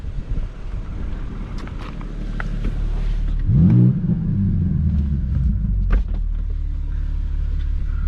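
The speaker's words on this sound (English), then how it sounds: "BMW does a good amount of burbles." BMW M4 Competition xDrive (2022) exhaust rumbling loudly under wind noise while driving, swelling into a deep burbling rise near the middle, followed by a sharp crack and continued low drone.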